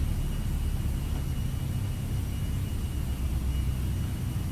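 Aerosoft A321 engines during the climb-out from Birmingham in P3D, a steady, bassy broadband rumble held evenly throughout, loud and alone.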